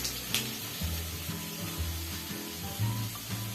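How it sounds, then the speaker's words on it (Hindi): Onion frying in a pressure cooker, a steady soft sizzle with occasional stirring scrapes and a low background hum, close and continuous. "अब हमारा प्याज भुन रहा है"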